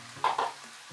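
Meat going into a pan of tomato sauce for spaghetti bolognese, two quick bursts of sizzling and stirring close up, then a low simmer.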